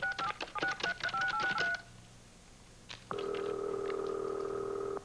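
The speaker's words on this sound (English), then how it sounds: "let's give it one more try." Telephone touch-tone dialing: a quick run of beeping keypad tones, a short quiet gap, then a steady sustained tone that holds to the end.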